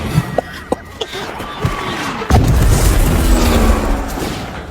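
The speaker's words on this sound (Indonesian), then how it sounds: "Mereka meluncurkan mercon ke arah camp." A few sharp pops and bangs of firecracker rockets give way to a loud booming blast that rumbles on, with distant crackling and a crowd in the background, in a film scene of an attack on a camp.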